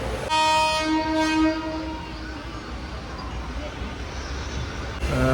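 Kollam to Aryankavu passenger train running in second class, a steady rumbling roll with a long sustained horn tone at the start, fairly loud and close, continuing without speech.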